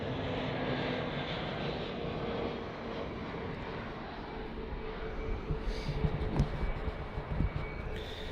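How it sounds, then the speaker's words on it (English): SAS Airbus A320-200neo airliner arriving at Copenhagen Airport, a steady distant jet rumble and roar that holds throughout, with faint clatter near the end. "This is a SAS A320-200 Neo. Arriving in from Chania"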